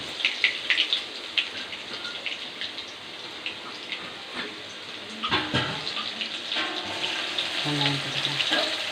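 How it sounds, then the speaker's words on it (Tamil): Garlic fries in hot oil with a steady, close sizzle and scattered crackles. A few sharper spits rise near the end, and a faint voice briefly sounds beneath. "பூண்டு போட்டுக்கலாம்."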